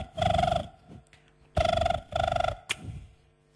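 A telephone ring, apparently imitated by a mimicry performer's voice, comes in three close warbling bursts with short gaps, moderately loud and alone.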